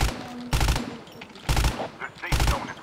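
Three short, loud bursts of automatic gunfire from COD Mobile, evenly spaced about a second apart, with faint game background and little talk.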